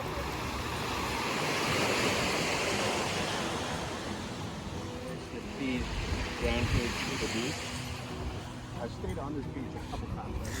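Surf washing onto a white-sand beach at Hat Sai Kaew on Koh Samed, a steady broadband roar with gusty wind noise, while someone talks over it.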